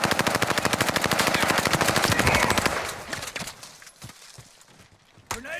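Sustained machine gun fire in Call of Duty Warzone on the Caldera map, a loud, steady rapid-fire stream of shots that fades into sparse single cracks and scattered impacts near the end.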